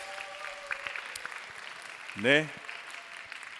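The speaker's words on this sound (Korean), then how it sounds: "앞으로 오실 때 박수로 환영하겠습니다" A church congregation claps to welcome the youth group's department heads forward at a Parents' Sunday young adults' service, a faint, steady patter of applause beneath a brief spoken word.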